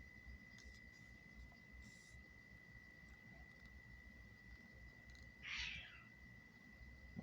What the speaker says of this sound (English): Cats outside fighting.